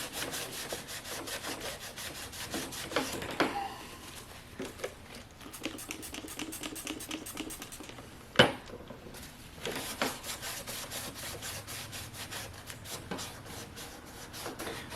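Rapid back-and-forth scrubbing on a plastic ATV body part being cleaned for welding, a close, steady rasping rhythm with one sharp knock partway through and no talking.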